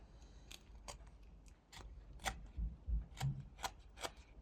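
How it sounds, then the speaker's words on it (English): Knife tip whittling a top cut into a small block of wood for a pig carving, a run of quick, close, scratchy scraping strokes in an uneven rhythm, quiet and alone. "So I'm making this top cut with the tip of the blade."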